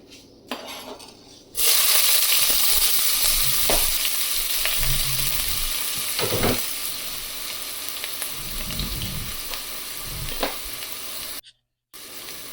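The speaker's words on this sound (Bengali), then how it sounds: "হাঁড়িটা বসিয়ে তেলটা গরম করে নিয়েছি এখন হচ্ছে পেঁয়াজ কুচি দিয়ে দিচ্ছি" Chopped onions dropped into hot oil in a cooking pot, giving a loud, steady sizzle and frying hiss with occasional stirring scrapes and clinks of utensils against the pot.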